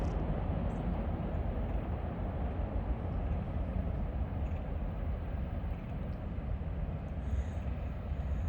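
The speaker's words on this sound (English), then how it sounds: "It's coasting, it sounds like." A train coasting past near a small crossing, heard as a steady, continuous low rumble and rolling rush that holds even for over eight seconds without a horn.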